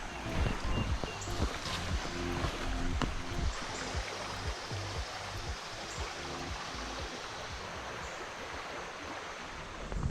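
A river runs beside a hiking trail at East Palisades near Atlanta, giving a steady, close rush of flowing water that holds level and continuous throughout with no talking.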